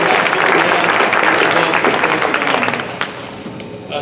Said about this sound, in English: let's go ahead and give a round of applause to Kentucky Farm Bureau